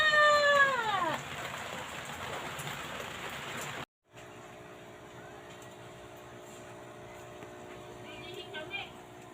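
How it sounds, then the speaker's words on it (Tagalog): Rain pattering on a surface outdoors beside a home fish-keeping setup, with a cat meowing over the steady patter at the start before the rain continues more softly alone. "Umuulan na!"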